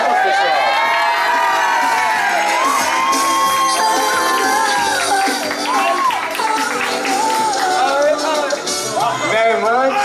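A birthday party crowd cheers, whoops and shouts loudly and continuously, with children's high voices and people calling out over the celebration.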